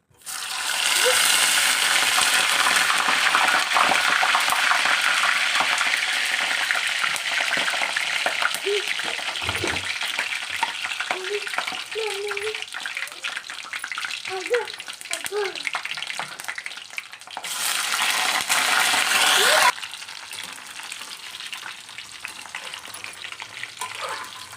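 French fries drop into hot oil and fry with a loud, dense bubbling hiss that eases slightly over time, then surges again briefly before settling, with a voice talking faintly over the frying in places.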